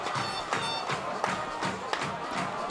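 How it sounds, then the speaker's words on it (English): A crowd cheers at a 2005 high school football playoff game between NHS and Mustang, steady and distant-sounding with scattered claps and shouts throughout. "And the crowd back into it as well."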